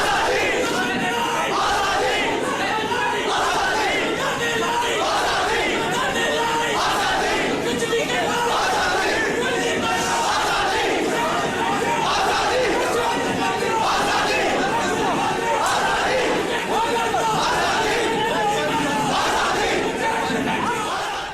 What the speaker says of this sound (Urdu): اس بحث کے دوران شرکا کی جانب سے کشمیر کی آزادی اور بھارت کے خلاف